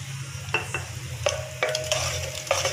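Ginger garlic paste frying in a pan for chicken tikka biryani, a steady sizzle broken by several sharp scraping stirs of a spoon against the metal.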